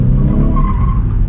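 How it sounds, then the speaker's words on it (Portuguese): A BMW Z4 drifting, its tires skidding and squealing over a loud, steady engine roar, close and continuous for the whole moment with no talk. "Drift!"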